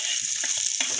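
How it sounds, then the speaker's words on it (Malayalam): Mutton pieces frying in hot oil for a boti roast, a steady close sizzle broken by a few stirring scrapes and a louder crackle near the end, with no talking. "ഇത് എണ്ണയിൽ വറട്ടി വാരിയിട്ട് കൊടുക്കാം."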